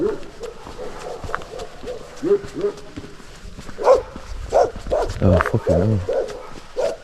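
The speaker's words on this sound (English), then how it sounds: "Saying that, dogs are pretty hard behind a fence, aren't they?" Dogs bark and yelp from behind fences along a hiking trail across Gran Canaria, a string of sharp barks and whines that grows louder partway through, while someone talks over them.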